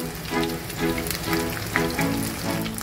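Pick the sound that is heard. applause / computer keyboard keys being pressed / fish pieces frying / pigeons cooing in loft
fish pieces frying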